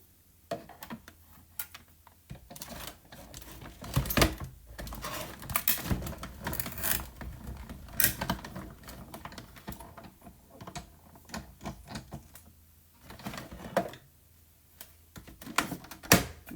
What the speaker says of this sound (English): And I'm going to go ahead and die cut this.